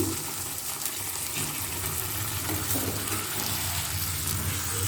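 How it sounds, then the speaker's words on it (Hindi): Water is poured into a simmering Odia-style pointed gourd curry, giving a steady, close rushing splash that holds evenly for about five seconds with no voices. "अब से आम टे पानी देदेबा"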